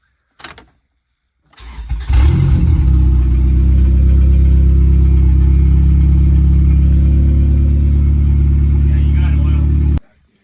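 A turbocharged Honda Integra GS-R engine cranks and catches, then settles into a loud, steady running drone held close by for about eight seconds before cutting off abruptly.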